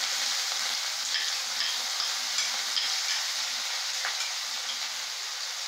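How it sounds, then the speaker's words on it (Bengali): Garlic frying in oil in a pan while cooking chili chicken, a steady loud sizzle with soft crackles throughout and no voices. "রসুনটা একটু ভাজা হতে"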